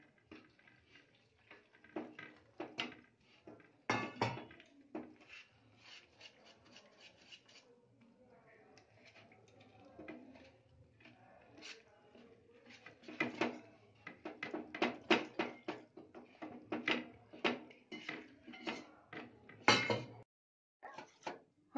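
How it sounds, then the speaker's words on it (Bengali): A spoon stirs batter with water in a bowl for pati sapta pithe, making close, irregular scraping and rubbing strokes with occasional sharp clinks against the bowl. The stirring speeds up into a quicker rhythm toward the end. "এবার এটা মিশিয়ে নিয়ে আমরা একটু জল দিয়ে গুলবো।"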